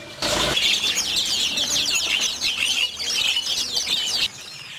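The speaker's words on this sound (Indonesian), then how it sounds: "Burung yang disita yakni jenis burung manyar, trucukan, emprit kaji, emprit kepala hitam, perkutut, dan tekukur." Seized small birds such as weaver birds, bulbuls, munias and doves fluttering in confinement, a loud busy flurry of wing flaps and faint chirps that runs steadily for several seconds, no speech.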